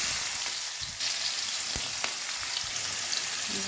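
Onions, ginger-garlic paste, seasoning seeds and spices sizzle steadily in hot oil for a cauliflower curry, a continuous close frying hiss with a few soft stirring clicks.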